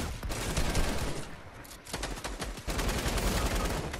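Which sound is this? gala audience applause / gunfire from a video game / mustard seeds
gunfire from a video game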